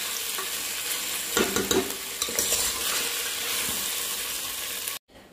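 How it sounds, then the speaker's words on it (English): Ginger garlic paste sizzles and fries in a pan for nalli nihari, a steady close hiss broken by stirring scrapes and clinks, ending abruptly in silence. "2 big spoons of ginger garlic paste into this and we will allow it to cook again for a couple of minutes"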